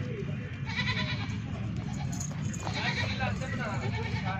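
Goat at a busy livestock market bleats several times amid a steady din of crowd chatter and people talking nearby.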